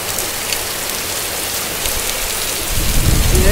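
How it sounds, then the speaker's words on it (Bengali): A rainstorm beats down hard and close, a thick steady wash of rain that swells into a deeper rumbling gust near the end, with no voices. "ঝড় বৃষ্টি হচ্ছে,"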